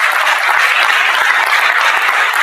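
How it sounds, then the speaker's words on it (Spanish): Loud, steady applause from a church conference congregation, dense clapping filling the whole stretch without pause and no voices on top. "Entonces un aplauso"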